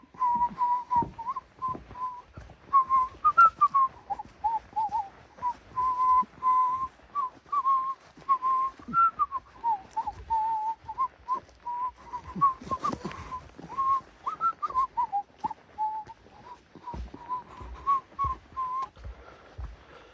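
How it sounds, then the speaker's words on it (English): A man whistles a wandering tune alone while working around a shed, clear melodic phrases rising and falling over about twenty seconds, with faint knocks and clatter of work beneath. "Whistle while you work."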